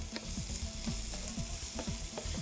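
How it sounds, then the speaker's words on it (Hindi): Garlic and onion fry in a hot frying pan with a dense, constant sizzle and a few soft stirring knocks, close and without voices. "अब आप इनको अच्छी तरह फ्राई करें।"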